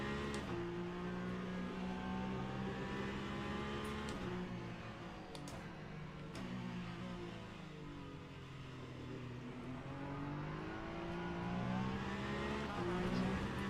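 A hypercar races around Interlagos in the Le Mans Ultimate sim, its engine note rising and falling through gear changes and corners, a steady sustained drone with no talking.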